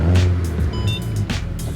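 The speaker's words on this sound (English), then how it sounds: "start the car." A Mk6 VW Golf R engine turns over and fires into a loud idle with a low rumble and a brief rising rev, heard close from inside the car.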